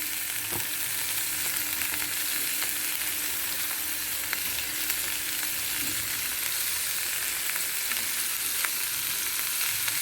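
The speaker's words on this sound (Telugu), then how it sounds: "ఇందులోనే కొంచెం కొబ్బరి వేయించుకోవడం బాగుంటుంది" Coconut, roasted gram and green chillies fry in a pan with a steady, dense sizzle throughout, stirred now and then, with no voices.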